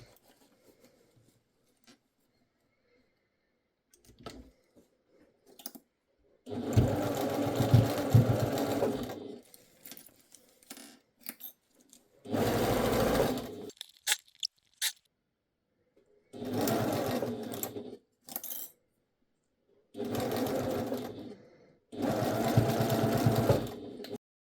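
A sewing machine stitching a fabric pouch, running in several whirring bursts of a few seconds each, separated by quiet pauses with small clicks and handling noises, close by.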